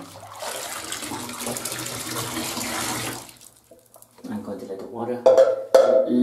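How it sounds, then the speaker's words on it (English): Hot water running from a bathtub tap, a broad steady rush for about three seconds, then a pause followed by lighter splashing and trickling with clattering handling sounds. "Run a little bit, a little hot water."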